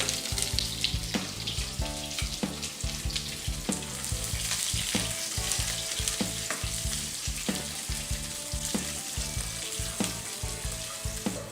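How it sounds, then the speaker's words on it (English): Onions sizzle in hot ghee with garam masala in a pan, a loud continuous frying hiss with crackles, broken by repeated knocks of a utensil stirring against the pan. "Once the garam masala starts frying, I will add in the onions. Reduce the flame if it is too hot. Okay. Onions are going in now."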